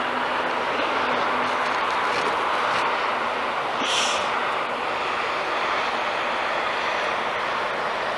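Steady, loud broadband roar of an airplane engine near an airport visitor park, continuous throughout with no pauses, close and dominant.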